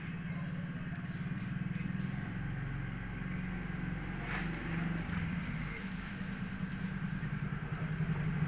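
2014 Yamaha Mio GT scooter with a smoking, power-losing, stalling engine, running steadily at low revs during a test ride, a faint continuous mid-pitched hum with a light clatter throughout.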